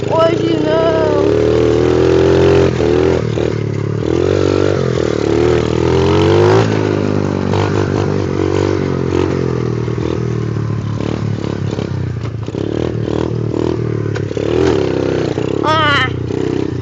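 A motorcycle engine revs and stutters loudly throughout a wheelie attempt, its pitch rising and falling in uneven bursts while someone talks over it.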